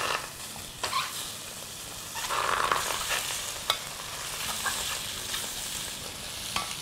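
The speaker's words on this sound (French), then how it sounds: "Donc on les saisit, c'est poêle bien chaude, avec un petit peu d'huile." Kidneys searing in a very hot pan with a little oil, a steady sizzle and crackle with brief scraping stirs and small pops throughout, fairly close.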